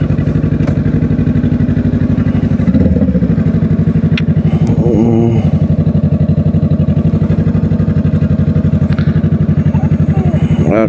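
A Honda CBR500R motorcycle engine running steadily, with a loud, close, even rumble and a couple of brief revs and gear-change shifts midway.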